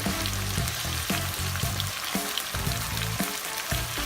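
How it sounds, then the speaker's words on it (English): Meat frying in butter in a wok, a steady close sizzle running throughout with rhythmic stirring scrapes about twice a second, no voices. "Let it simmer a little bit, and again, make sure you keep stirring because it's a wok"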